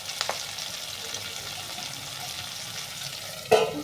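Chopped onions with a little salt softening and lightly browning in a pan, giving a faint, steady sizzle with a short clatter near the end.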